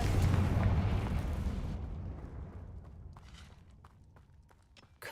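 Confringo fire spell exploding in Hogwarts Legacy, a loud booming blast that rumbles and fades out over several seconds, with scattered small crackles and debris sounds trailing off.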